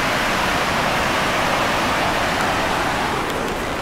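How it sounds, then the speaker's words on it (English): Poplar River along the Superior Hiking Trail near Caribou Falls, a loud, continuous rush of flowing water that fills the whole stretch without pause, heard close up. "But this is the Poplar River."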